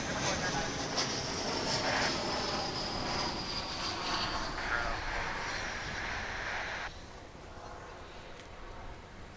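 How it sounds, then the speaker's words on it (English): An American Airlines Airbus A321 arriving from San Diego lands at DFW airport, a loud sustained jet roar with whining tones that drops abruptly in level near the end as the aircraft passes. "American Flight 2743. An Airbus A321 coming in from San Diego, California"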